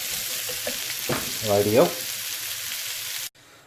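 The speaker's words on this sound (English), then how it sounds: "Now I'm going to cook these onions." Onions for tarka dhal frying in a pan, a steady broadband sizzle running throughout at moderate loudness, with a brief spoken word over it before the sizzle abruptly cuts off near the end.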